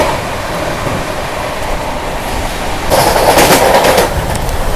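Interior of the Mumbai Rajdhani Express passenger train running on tracks near the Kasara Ghat: a loud, continuous rumbling roar of wheels and carriage with a steady rattle, swelling louder partway through, no talk.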